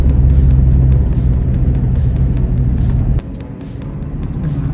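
Cars pass along a road in Bali near a Luwak coffee area, heard as a steady, fairly loud traffic rumble that drops off abruptly partway through and then slowly builds again.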